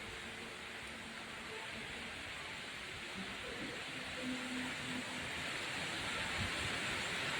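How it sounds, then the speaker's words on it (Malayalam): Strong wind roars during rain as a broad, constant rush, with faint low rumbles and murmurs beneath it. "നല്ല കാറ്റടിക്കുന്നുണ്ട്"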